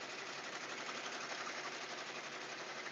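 An embroidery machine runs steadily as it stitches towels, a dense continuous mechanical whir that stays even and unbroken from start to finish with no talking over it.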